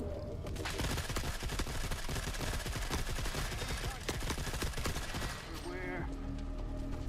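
Sniper and automatic gunfire crackle nonstop in the video game Forever Winter, a dense, loud barrage of rapid shots that thins briefly near the end before picking up again, with voices talking over it.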